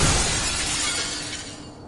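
A glass pane shattering in a video game, a single loud crash of breaking glass that fades away over about two seconds.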